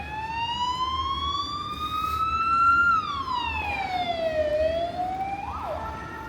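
An emergency vehicle siren wails on a street in Romania, sweeping slowly up and then down in pitch. It sounds fairly close and loud over a low rumble of traffic.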